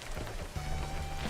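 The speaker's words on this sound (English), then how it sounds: "it's raining at spawn if anyone wants to go for a rain fish" Rain falls in the video game Webfishing, a dense steady patter of drops on a surface with a low rumble beneath, continuous throughout.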